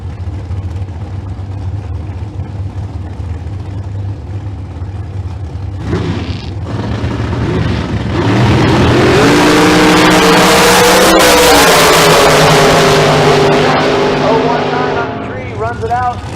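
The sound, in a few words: green and black dragster racing at Famoso Dragstrip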